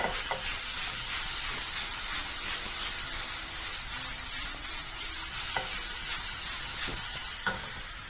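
Beef browning in a hot pan, a loud continuous hiss and sizzle throughout with a few faint clicks of stirring, no one speaking.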